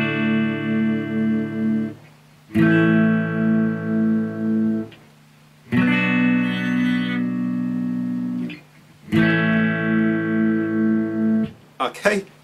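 Clean-tone electric guitar plays an interlude, four slow strummed chord phrases separated by short gaps, close and moderately loud, with no voice over it.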